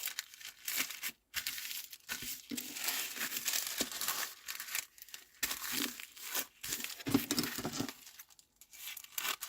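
Paper being folded into thirds for a handmade Mother's Day gift: close, continuous crinkling and rustling with brief pauses, loud and unaccompanied by talk.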